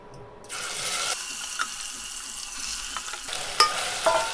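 Marinated mutton dropped into a pan of frying spices: a sudden loud hiss that settles into steady sizzling, with a few small clinks and taps, close and without talk.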